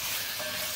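Ground beef for Jamaican beef patties fries in a pan until dry and crumbly, giving a loud, steady, close sizzle with a brief spell of hiss and no pauses.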